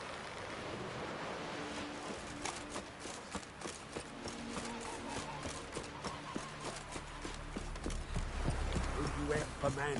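Roach the horse's hooves clip-clop in The Witcher 3 amid wind and ambient noise, a steady rhythmic trot of fairly faint strikes, with a voice speaking over it.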